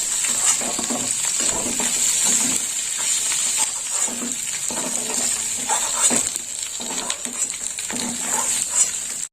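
Chunks of taro and potato frying in hot oil in a pan, giving a steady bright sizzle with soft stirring clinks and scrapes at intervals, moderately close and without talk.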